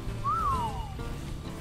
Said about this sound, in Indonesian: Kita siul nih dulu nih biar mereka tenang dulu.